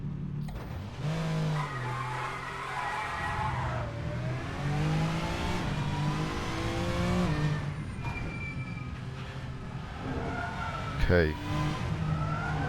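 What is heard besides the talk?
touring car driving and skidding, Assetto Corsa video game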